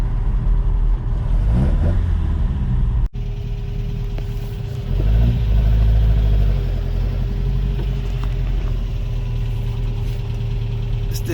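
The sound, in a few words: Toyota 22R engine truck driving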